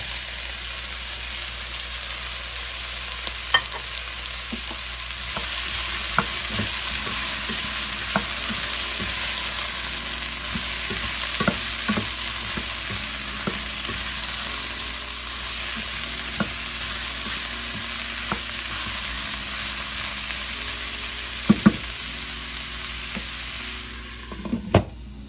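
Zucchini sizzles in a pan for an Ethiopian chickpea soup, with a steady, hissing fry throughout and occasional faint clinks and scrapes of stirring.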